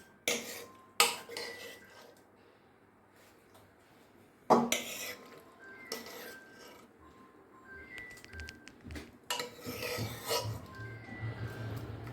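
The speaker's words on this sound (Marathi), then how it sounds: "तो आता मी काढून घेते या भांड्यामध्ये" Cooked pumpkin is taken out of a pressure cooker into a pot, with sporadic metal spoon scrapes, clinks and knocks against cookware and quiet pauses in between.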